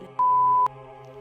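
A censorship bleep, a single steady electronic tone lasting about half a second, cuts loudly over low background hum in an abandoned villa.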